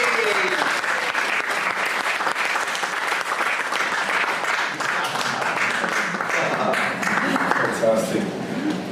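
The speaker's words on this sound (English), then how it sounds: "Round of applause, the magnificent David!" A workshop audience breaks into sustained clapping as a presenter is welcomed, a dense even wash of hands held at a steady level for the whole stretch, with faint voices mixed underneath.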